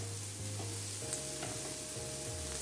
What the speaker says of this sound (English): So we're going to allow it to saute a little bit.